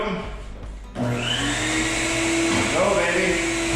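A shop vacuum whines steadily as it kicks on partway through, drawing dust while a floor buffer screens a wood floor with a well-worn roughly 320-grit screen between finish coats; loud, continuous droning with a faint background voice.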